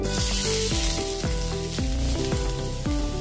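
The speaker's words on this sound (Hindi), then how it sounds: "अभी इसमें लहसुन की कलियां अच्छे से फ्राई हो गई है।" Finely chopped garlic cloves frying in about four spoons of hot oil for veg noodles, with a loud, steady sizzle broken by repeated scraping stirs at a regular pace, close up and without talk.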